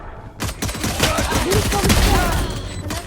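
Rapid gunfire in the shooter game Valorant, dense bursts of shots running almost continuously after a brief quiet start, loud and close, with a voice faintly underneath.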